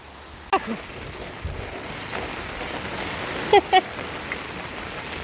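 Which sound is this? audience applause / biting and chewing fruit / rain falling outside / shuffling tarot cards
rain falling outside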